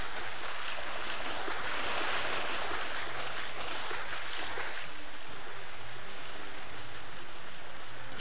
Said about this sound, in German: Das Wasser ist denn laut.